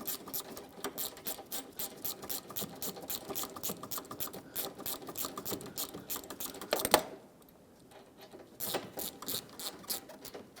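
A ratchet with a 5mm socket tightens an AC condenser stud on a 2012-2020 Ford Focus, making rapid close clicking runs that pause briefly near the middle before a few more bursts of clicks.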